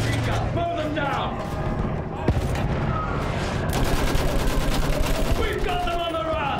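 Machine gun fire in the Battlefield 1 video game rattles continuously under a shouting voice and a dense battle din, with a sharp crack partway through.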